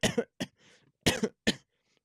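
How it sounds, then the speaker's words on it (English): Three or four harsh, raspy coughs burst out in quick succession close up, separated by short gaps, with a faint wheezy breath trailing after the first pair. "I got a bad cough."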